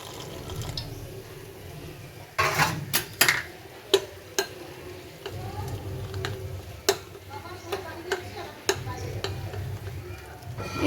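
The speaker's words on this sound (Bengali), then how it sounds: "এরপর আমি অল্প অল্প জল দিয়ে ব্যাটারটা তৈরি করে নেব।" Fenugreek pakora batter is stirred with water in a bowl, giving sharp spoon taps and clinks against the bowl over a soft wet mixing sound, with talking in the background.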